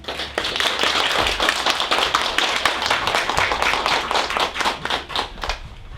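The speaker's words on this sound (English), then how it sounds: "can we have you clapping for Dr. Bernard Shevlin?" Children at a talk and book reading give Dr. Bernard Shevlin a steady, lively round of clapping, many small hands beating densely and evenly for about six seconds with no talking over it.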